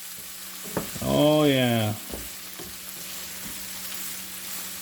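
Low-carb Philly cheesesteak mixture sizzles and is stirred in a hot pan, with a burst of frying crackle and scraping, while a voice speaks briefly over the cooking.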